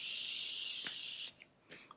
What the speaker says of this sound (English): I'm just gonna take the Morphe setting spray